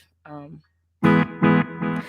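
Electric guitar notes played through a live delay effect, a short plucked tone and then three sustained chords that ring with echoing repeats, close and fairly loud.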